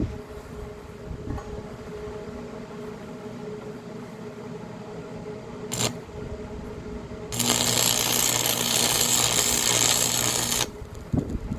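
Tack welding a steel jig for a chainsaw lumber mill: a steady buzzing, crackling arc of a few seconds, heard close after a stretch of quieter workshop noise and brief handling clatter.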